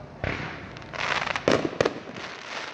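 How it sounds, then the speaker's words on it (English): Fireworks bursting in the background at an outdoor street drag-racing event, several sharp pops and crackling bangs over a steady crowd-and-engine rumble, moderately distant. "fireworks going off"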